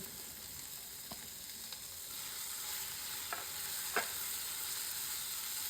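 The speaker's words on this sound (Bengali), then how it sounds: "এই ক্যাপসিকামটা আগে দিয়ে দেবেন এবং কাঁচা মরিচগুলো দুইটা একসাথে ভাজা ভাজা হবে" Capsicum and green chillies stir-frying together in a pan over low heat for an easy egg stir-fry, giving a soft steady sizzle with a few faint stirring clicks and no talking.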